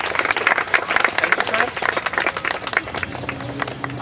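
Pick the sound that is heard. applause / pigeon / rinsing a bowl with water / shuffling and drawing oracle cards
applause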